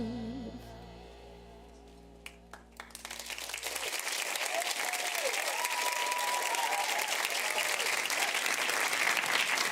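An audience breaks into loud, sustained applause after a dance performance at a Strictly Come Surrey show, the clapping swelling from a few claps into a dense roar as the music fades out beneath it.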